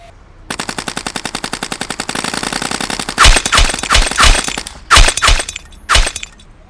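Machine gun fire sound effect tearing into brickwork: a rapid, loud stream of evenly spaced shots, followed by several heavy impact bursts with cracking and shattering, close and alone with no talk.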